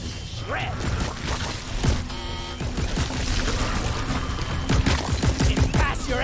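Rapid gunfire in the sci-fi shooter Deep Rock Galactic, dense bursts of automatic shots layered with mechanical clatter and impacts, loud and continuous, with brief game voice callouts mixed in.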